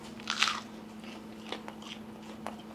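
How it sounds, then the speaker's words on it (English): A crisp bite into a garlic grilled cheese sandwich with melted cheese, one loud close crunch followed by softer chewing crunches, alone without talk over a steady low background hum. "And take a bite."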